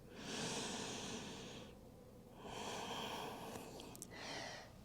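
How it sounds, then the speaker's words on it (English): Slow, deep breathing during a stretching practice for hips and legs, with two long airy inhales or exhales, then a shorter one, close and soft. "emphasize deepening that breath for at least 3 more rounds"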